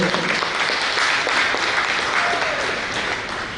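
An audience claps for volunteers at the feast of St. Francis Xavier in Doha, Qatar: steady, dense applause from many hands, continuous and fairly loud, tapering slightly at the end.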